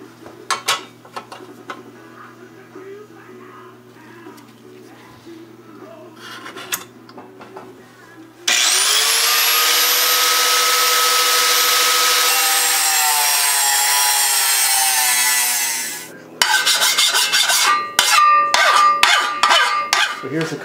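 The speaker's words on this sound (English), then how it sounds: "we need to cut the front of the windage tray off to clear the pan" Cutting the front section off an oil pan windage tray for an LS engine swap: after some light handling noises, a loud, steady whine of a power tool grinding through the sheet metal runs for about eight seconds alone, followed by clattering of the part.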